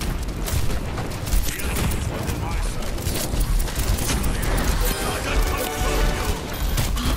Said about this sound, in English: Dr. Frankenstein lobbed his bombs at the castle. The explosions a percussive accompaniment to the sound of his laughter.